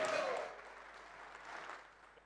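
An audience at a Bosch brand store launch in Kenya claps for a chamber of commerce chairman, a brief burst that starts strongest and thins out quickly, fairly faint and distant.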